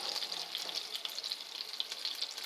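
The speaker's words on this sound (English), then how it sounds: "Try to brown that up a little bit." A spring lamb leg seasoned with thyme sears in a hot pan over a strong flame, giving a steady, close, dense sizzle and crackle of frying fat that continues without a break.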